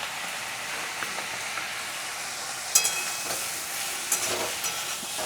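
Sauce with a little vinegar being stirred in a pan, a steady soft sizzle with scraping stirs and a couple of sharper clinks of the spoon against the pan, close and alone.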